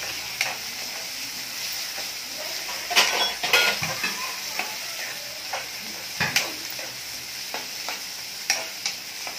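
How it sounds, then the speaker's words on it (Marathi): Crushed garlic and green chili thecha fries in a pan with a steady sizzle, punctuated by repeated clinks and scrapes of a spoon against the metal, a louder clatter midway. "हा जो बनवलेला ठेचा आहे तो आपण टाकून घेऊया."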